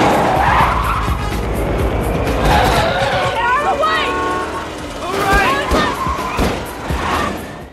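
Cars skidding with squealing tires during a movie car chase, several loud screeching sweeps rising and falling over engine roar and crash-like bursts, with voices shouting underneath.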